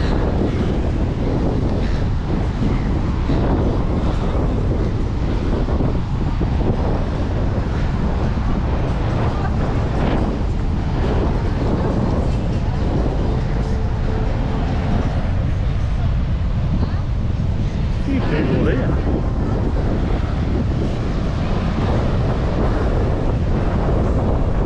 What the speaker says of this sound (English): Waves at the back. They're unreal.